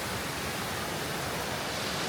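A waterfall near a small dammed pool roars in a steady, dense broadband wash, loud and close, with no voices.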